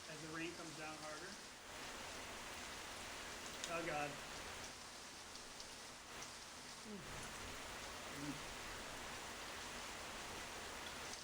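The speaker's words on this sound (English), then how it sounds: "As the rain comes down harder." Heavy rain falls steadily, a dense close hiss that keeps up throughout, with brief voices talking over it.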